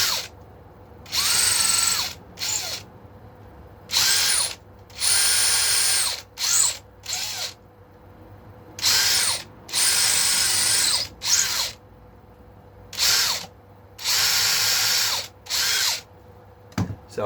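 A power drill spots holes through into a late-1960s-style Stratocaster guitar body, whirring in about a dozen short bursts of one to two seconds with brief pauses between, close and loud, no talking.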